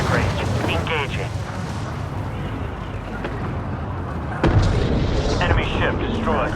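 Spaceship weapons firing during a frigate battle in the Homeworld 3 space strategy game, with dense continuous booming and rumbling explosions and a heavier burst near the end, under radio-style voice chatter.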